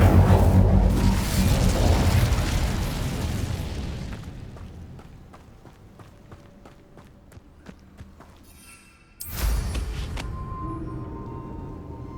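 In Hogwarts Legacy, an Incendio fire spell is cast with a loud whooshing burst of flame, then quieter footsteps, and a second sharp fiery blast follows near the end.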